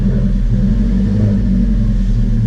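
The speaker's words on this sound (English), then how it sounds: "From the inside, you're gonna hear turbo noise more than anything." Alfa Romeo 4C sports car with turbocharged engine and open sports exhaust without muffler, heard from inside as a steady low rumble and drone throughout, loud and continuous with no talking.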